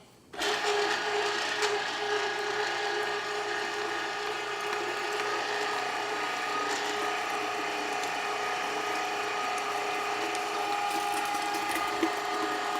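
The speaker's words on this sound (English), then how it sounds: "Now this grinder will grind as fast as you can feed it." A meat grinder fitted with a 4.5 millimeter die grinds meat for sausage, starting abruptly and then holding a loud, steady mechanical whir and grind throughout, with no speech.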